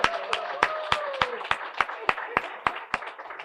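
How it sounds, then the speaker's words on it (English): A small group claps at an awards brunch for a neighborhood beautification initiative, with sharp, evenly spaced individual claps rather than a full crowd roar. "Let's give District 7 a round of applause."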